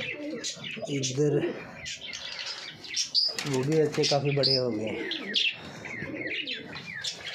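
Pigeons in a home mini zoo coo and chirp with some wing flapping, fairly close, while someone speaks over them throughout.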